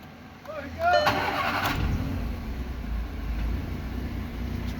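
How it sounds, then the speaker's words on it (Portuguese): A 2012 VW Gol G5 engine cranks briefly and catches, then settles into a steady low idle rumble, close by, with a voice talking over it. "Vamos ligar o carro, botar ele para funcionar"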